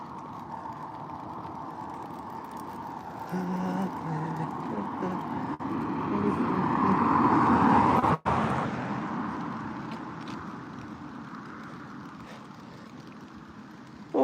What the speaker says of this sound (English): When the car comes, it's noisy.